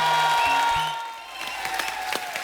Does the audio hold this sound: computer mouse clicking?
no